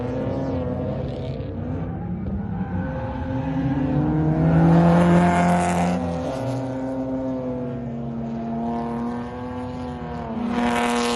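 A drift car circles a racetrack during a casual track-day session, its engine droning and rising and falling in pitch as it accelerates and lifts, growing loudest midway and swelling again near the end, with no one talking.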